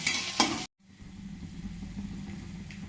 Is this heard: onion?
yes